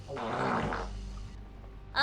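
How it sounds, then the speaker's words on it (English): Fart sound effects played during a livestream of The Walking Dead Season 2, a loud low rasping blast for about a second that trails off, with a brief noise at the end. "Why are you guys playing fart sounds?"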